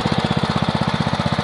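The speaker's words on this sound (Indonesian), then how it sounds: "Traktornya adalah dengan bodi sasis Quick Impala, sementara mesinnya adalah mesin Honda G300." A Quick Impala hand tractor with a Honda G300 engine runs close by, its single-cylinder motor chugging in a loud, fast, steady rhythmic pulse throughout.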